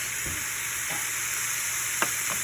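Quinoa seasoned with cinnamon and paprika is stirred in a pan: a few soft, separate scraping strokes over a steady, fairly quiet frying hiss.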